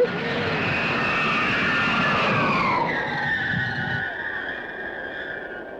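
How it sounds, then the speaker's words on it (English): Jet aircraft with afterburner lit roars past, a loud broadband rumble with a falling whine as it passes, then fades into a steady distant drone. "afterburner."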